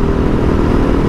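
A 2011 Husaberg FS570 motorcycle engine under way while riding, a loud, dense, continuous drone with low rumble and rattling texture, steady throughout with no voices.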